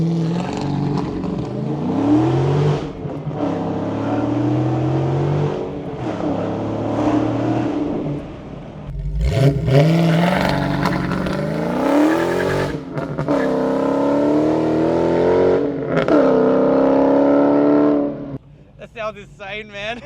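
A right-hand-drive converted 2022 Dodge Challenger Scat Pack V8 accelerates hard with wheel spin, its engine note climbing in loud, close sweeps several times while people talk over it.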